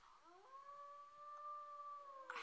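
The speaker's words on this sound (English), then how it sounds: "you have to howl completely" A wolf in the WolfQuest video game gives a single long, smooth howl that rises and then holds a steady pitch for about two seconds, clear and alone over faint background.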